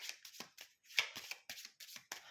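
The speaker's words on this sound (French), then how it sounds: "Je vais mélanger mon deck" A deck of Hero Realms cards shuffled by hand, a quick run of close, crisp riffling bursts in rapid rhythm, quiet and with no talking.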